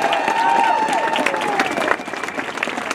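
Crowd at a rally against gun violence gives a big round of applause for state legislators, loud clapping with a few cheers that thins slightly toward the end while a voice rings over it.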